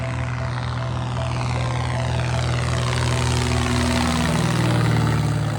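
Light single-engine propeller aircraft fitted with a STOL kit climbing out at low airspeed in mountainous Italy, a loud, continuous droning engine and propeller tone heard from the cabin, steady throughout with no talking.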